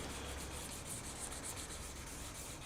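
Sandpaper rubbing over the finish of a Stratocaster guitar neck at a fine grit to remove scratches, a steady close-up scratchy hiss with soft repeating strokes throughout, no talking.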